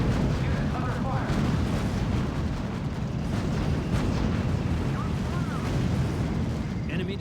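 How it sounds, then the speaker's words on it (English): Tank gunfire in the R.U.S.E. strategy video game, a continuous loud rumbling barrage of cannon booms and battle noise, dense and sustained throughout. "Unit opening fire on the enemy."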